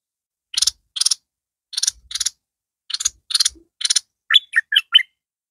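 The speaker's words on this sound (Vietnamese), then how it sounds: "Rồi, các bạn xem con hoạch thơm hót này." A hoạch thơm songbird sings from its cage, giving a series of sharp, bright repeated whistled notes in short bursts with brief pauses between them, close and loud against silence.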